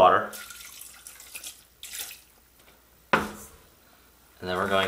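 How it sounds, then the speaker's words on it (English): A little water added to a pot of seasoned ground venison for hotdogs and bologna, with short bursts of tap water running and splashing, separated by quiet pauses and some brief handling noise. "Now I'm going to add a little bit of water,"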